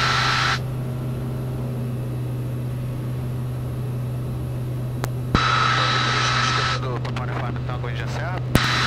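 Ultralight aircraft engine droning steadily in flight over an airfield traffic circuit during a touch-and-go exercise at 500 feet, a constant close hum with a low tone, while someone speaks over radio-like audio and brief clicks cut in.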